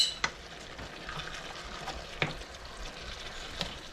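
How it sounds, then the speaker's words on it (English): A cup of barbecue sauce is stirred into a beef casserole mixture, a soft wet scraping and squelching with a few sharp taps of a spoon on the pot, close and quiet. "I'm just going to stir that cup of barbecue sauce into the mixture."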